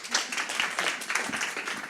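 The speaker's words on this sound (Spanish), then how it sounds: "Un fuerte aplauso, por favor." Applause from a seated audience at a Spanish-language book launch event, a short burst of many hands clapping with a few distinct near claps standing out.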